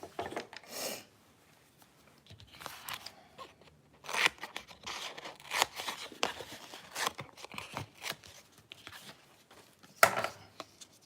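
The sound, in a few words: scissors cutting craft foam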